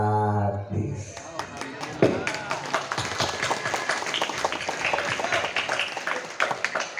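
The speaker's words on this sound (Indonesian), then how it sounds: "Tepuk tangan Bapak, terima kasih." Audience applause at an Islamic religious gathering during an ustadz's preaching tour, breaking out after a second and continuing as dense, steady clapping with some voices mixed in.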